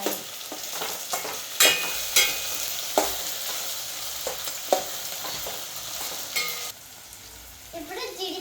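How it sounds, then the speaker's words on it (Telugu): Carrots frying in oil for jeedi pappu upma sizzle steadily while a spoon scrapes and stirs them in sharp, irregular clinks. Near the end the sizzle drops and a voice speaks briefly. "ఇవి బాగా నూనెలో వేగాలి. వేయించాలి."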